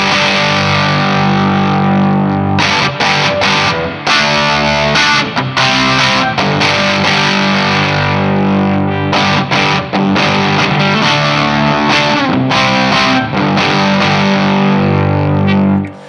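Electric guitar through an LSL Lucid OD overdrive pedal with gain and volume maxed and tone rolled back, loud, thick distorted chords and riffs played continuously with sharp choppy stops.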